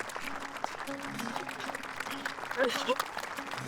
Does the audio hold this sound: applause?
yes